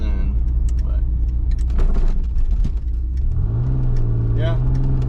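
Exhaust of either a 1988 Pontiac Fiero or a 2000 Ford F250 7.3 Powerstroke diesel revs up, a loud, close engine rumble rising in pitch toward the end, with a voice talking over it.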